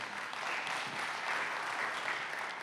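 Church congregation applauding during a sermon, a steady dense wash of clapping held at an even level throughout, fairly distant and without voices rising above it.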